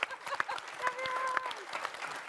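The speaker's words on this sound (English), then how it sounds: "let's invite Kavya and clap for her" Light applause from a panel-event audience welcoming a speaker, modest and fairly soft, with a few sharper claps standing out and a faint voice in the background.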